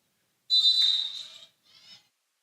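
A referee's whistle cuts through during a men's college basketball game between the TBC Eagles and Trinity College of Florida: one long shrill blast followed by a shorter, fainter tweet, loud and clear against near silence.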